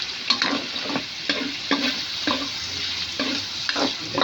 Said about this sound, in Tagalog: Naluluto ang bawang, naluluto ang sibuyas, sama na yung ating atay.